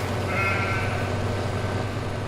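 A sheep bleats once in a farming video game, a brief wavering call that rises over a constant low mechanical hum of machinery.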